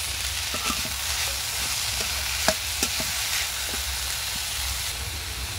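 Grated potato with onion and chili flakes being stirred in a hot pan, a steady low sizzle with soft scraping strokes and a few sharper clicks of the spatula.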